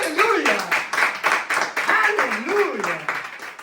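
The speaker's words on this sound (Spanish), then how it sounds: "Denle un aplauso a Jesucristo." A church congregation claps during a Spanish-language sermon, rhythmic hand clapping that runs throughout beneath a loud, excited preacher's voice.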